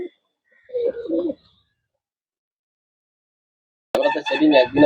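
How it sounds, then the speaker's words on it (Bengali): Pigeons cooing nearby in two short bursts of throaty, rolling calls, separated by a quiet pause, the second burst louder and fuller. "ছাড়ার সঙ্গে সঙ্গে কেমন ভাবে ডাকাডাকি করছে"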